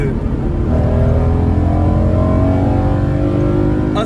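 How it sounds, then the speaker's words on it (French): A BMW M3 E92 with a modified three-pipe exhaust, its engine holding a steady loud drone close by for the whole stretch, with faint talk under it. "tu développes cette sonorité qui fait toute la voiture"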